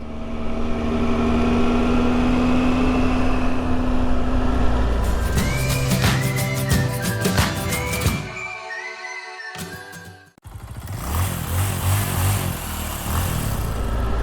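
A motorcycle rides along a road on a Colorado trip, its engine droning steadily up close with wind rush, then shifting pitch and briefly dropping away before the roar picks back up.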